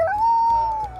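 A dog whines in the video game Sea of Thieves, a single drawn-out tonal whimper that rises quickly and then holds level for about a second, close and alone.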